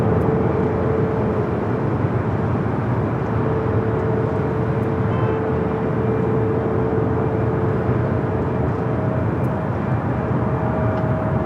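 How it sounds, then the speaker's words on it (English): A United Boeing Dreamliner airliner takes off from Los Angeles International Airport, giving a steady, fairly loud engine rumble with a sustained tonal hum throughout and no talk. "The Dreamliner taking off on the south side was that flight heading to Newark"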